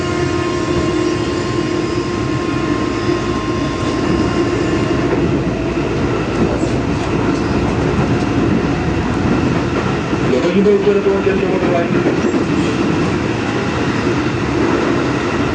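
A KRL commuter electric train pulls away from Tebet station on the Jakarta line, a steady loud rumble with tonal motor whine and rising clatter throughout, heard from inside the carriage with faint voices underneath.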